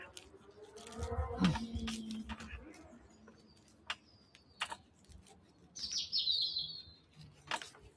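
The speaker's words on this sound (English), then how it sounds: "it's so nice to listen to the birds chirping" Birds chirp and tweet in short bright calls, near and far, in a garden, with scattered clicks and a brief low voice or thump early on.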